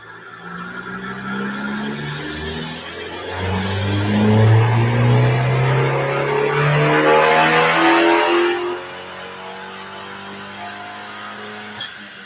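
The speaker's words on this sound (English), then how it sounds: "so let's let John run the car on the dyno again" A big-turbo Dodge Dart is run on a dyno, its engine climbing loudly through rising revs for several seconds before the note drops back to a lower rumble.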